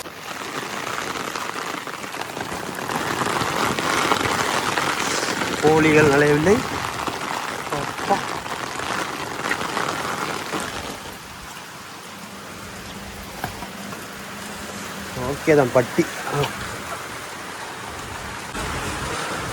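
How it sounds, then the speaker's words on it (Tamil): Steady heavy rain pours down in a broad continuous hiss, with a person speaking Tamil over it and a few louder splashes or knocks partway through. "இன்னும் செம மழை."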